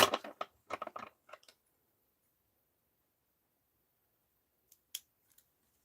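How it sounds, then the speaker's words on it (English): Scissors snip through the glued edge of a thrifted garment: a quick, close run of crisp cuts at the start, then silence and two faint final snips. "I'm going to cut it off."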